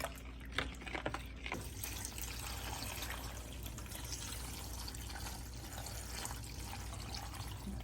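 Water pours steadily over foraged giant morel mushrooms to soak them in salt water, a continuous close splashing wash with a few sharper splashes near the start.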